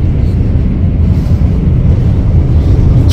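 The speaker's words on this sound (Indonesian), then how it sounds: "ini situasi di dalam kereta cepat ketika sedang berjalan seperti ini" The interior of a high-speed train running to Medina, a loud, steady low rumble of the moving carriage with no distinct events and no talk.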